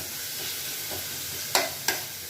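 A ginger, garlic and green chili paste fries with chicken keema in a pan, a steady soft sizzle broken by two sharp scraping strokes of a spoon near the end.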